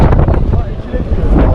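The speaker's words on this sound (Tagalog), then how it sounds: "Medyo mahangin nga lang." Strong wind blows across an outdoor seaside spot where people gather at night, buffeting the microphone with a loud, steady low roar that stays constant from start to finish.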